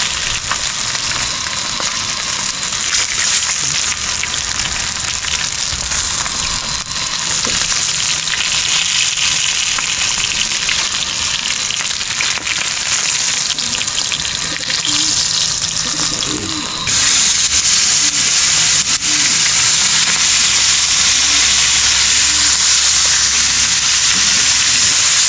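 A second batch of food fries in hot oil, a steady loud sizzle and crackle that fills the whole stretch, with faint splashes of water and a sharper hiss rising near the end.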